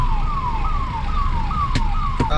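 A loud ambulance siren cycles rapidly up and down over steady traffic noise, with a couple of sharp clicks near the end.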